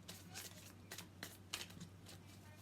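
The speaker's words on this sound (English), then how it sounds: "I'm going to pull some tarot cards." Tarot cards are shuffled in short riffling bursts, several quick papery flurries in a row, close and quiet over a low steady hum, with no talking.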